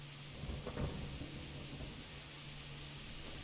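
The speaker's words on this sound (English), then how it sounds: "Pretty damn rainy." Rain and rumbling thunder in the medieval game Kingdom Come: Deliverance, a steady wash of rainfall with a low roll of thunder swelling briefly early on, then settling into constant downpour.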